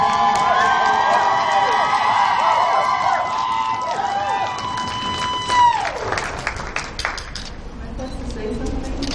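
An audience at a college poetry slam cheers and applauds a poet, with whoops and claps rising over a sustained ringing tone that bends downward and fades.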